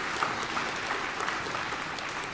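Dense, steady applause fills a school assembly hall at a Veterans Day event at Wellston High School, with many hands clapping at an even level throughout and no break.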